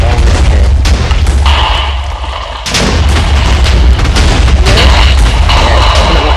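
Booming explosion effect in a Minecraft-style escape adventure map, a loud burst with rumbling low end that dips briefly near the middle, then resumes with repeated crackling blasts throughout.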